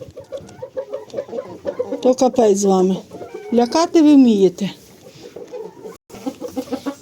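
Hens cluck and murmur close by as they eat their feed, with someone talking over them.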